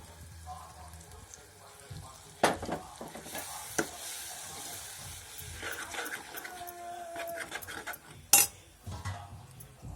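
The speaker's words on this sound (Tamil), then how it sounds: "இப்போ நம்ம அரைச்சி வச்சு இந்த ஃபைன் பேஸ்ட்டை வந்து இதில் ஆட் பண்ணுறோம்" Finely ground paste goes into a hot pot and is stirred, a soft sizzle broken by a few sharp clinks of a spoon against metal.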